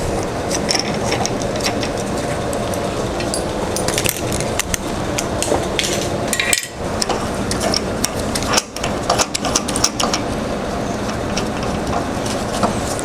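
Metal being drilled with a sharp 9/32 inch bit, run dry without oil, during restoration of a 1930 Briggs FH engine; a steady, loud grinding whir with scattered metallic clicks and knocks, continuing throughout with a brief dip midway.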